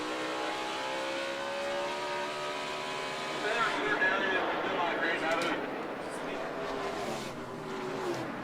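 NASCAR Sprint Cup race cars roaring around the Sonoma road course, a dense, continuous engine drone with layered harmonic tones from several cars passing, swelling briefly louder midway, with a commentator talking over it.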